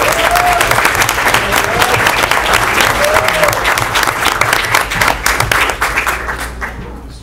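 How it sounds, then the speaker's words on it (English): A dense, loud round of applause from the audience at a Mountainside, New Jersey council meeting, many hands clapping steadily for several seconds before tapering off near the end. "let's give him another big round of applause"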